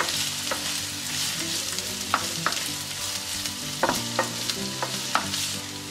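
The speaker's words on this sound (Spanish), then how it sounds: "Ahora tenemos el aceite caliente y con el fuego a temperatura media, que yo lo tengo al 6, sobre 9, añadimos la cebolla." Sliced onion strips sizzle in hot oil over medium heat, a continuous close crackle broken by sharp scraping clicks of a utensil as the pan is stirred, with no voices.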